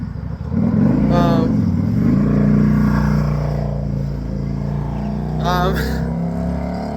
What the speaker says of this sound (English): That guy went past me in the bike. He was like really, really loud and obnoxious